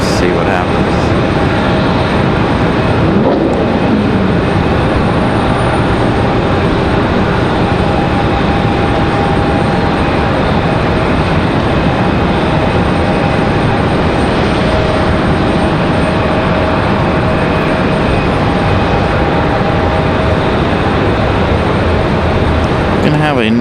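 An airliner lands on the runway at Raleigh Durham International Airport in afternoon wind, a loud, continuous broadband engine roar and rumble sustained throughout, with a faint tonal whine riding on top.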